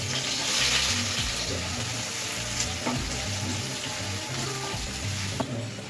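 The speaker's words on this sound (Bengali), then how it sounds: "এবার হচ্ছে পেঁয়াজের বেরেস্তাটা প্রথমে ভেজে নেব।" Onions frying in hot oil in a wok for biryani, a loud, dense, steady sizzle close up throughout, with faint clinks and watery crackle underneath and no talking.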